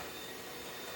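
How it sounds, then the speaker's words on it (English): An electric hand mixer beats cream until foamy for a coconut piña colada icebox pie, giving a loud, steady motor whir that runs unbroken through the short moment with no talking. "We're going to use our hand mixer and beat this until it's foamy."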